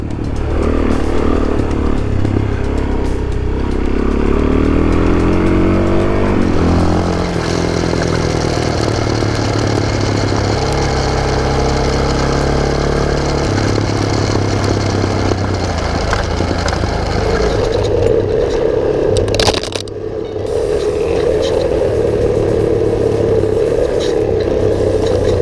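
A Suzuki DRZ400 motorcycle rides along a road on Del Sur Ridge, its loud engine droning from onboard as it shifts and revs through gears, with heavy wind rush throughout and a brief dip near the end.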